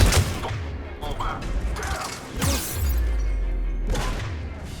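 Several heavy, booming Katana shotgun blasts in Mass Effect 3, fired a few at a time with mechanical clatter between them and a low rumbling tail after each shot.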